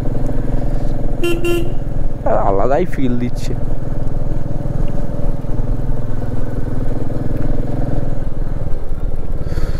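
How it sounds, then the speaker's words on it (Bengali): Three motorbikes come up from behind on a mountain road through pine forest near Darjeeling, ridden alongside a Royal Enfield Meteor 350. There is steady engine and wind rumble throughout, a short horn toot near the start, and a voice talking over it. "পিছনে 3টে পরপর বাইক আসছে"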